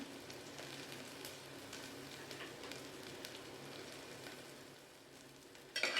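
Onions with a green chili sautéing in a pan for a Tamil beetroot stir-fry, giving a faint, steady sizzle and crackle throughout with no talk, and a brief louder scrape near the end.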